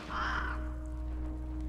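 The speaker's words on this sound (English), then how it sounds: "Yeah, it's just a bird, not a spy." A crow-like bird in The Lord of the Rings: Gollum lets out a single harsh caw, fairly close and moderately loud, fading quickly into a quiet humming ambience.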